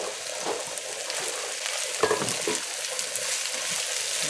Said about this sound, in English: So while this okra is frying now